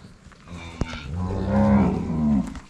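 Cattle on a drought-stricken farm: a cow moos in a long, loud, drawn-out call with a rising then falling tone, close by, with a brief knock just before it and no talk.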